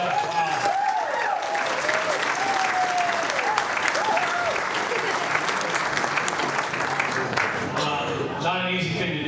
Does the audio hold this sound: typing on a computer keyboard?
no